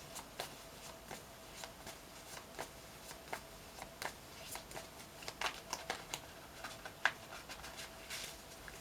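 Soft, repeated riffling of tarot cards being shuffled, a steady patter of light taps and flicks, close by and quiet.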